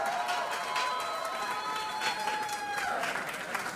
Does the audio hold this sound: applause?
yes